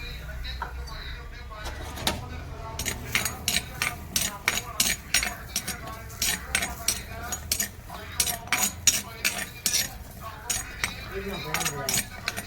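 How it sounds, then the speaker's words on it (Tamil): Garlic cloves roasting in a pan for Andhra lentil powder, with repeated metal clinks and scrapes of a spoon against the pan in quick irregular bursts, close by and fairly loud. "இப்போ அடுத்து பூண்டை போட்டு வறுத்துருவோம்"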